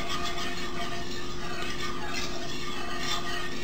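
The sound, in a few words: scraping and stirring sauce in a cooking pan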